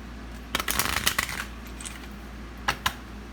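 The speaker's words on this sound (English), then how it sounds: "I'm shuffling these little healing angel cards" Healing angel oracle cards being shuffled by hand, a dense flurry of papery riffling and flicks for about a second, then two brief quieter bursts after a pause; close and fairly soft, with no talking.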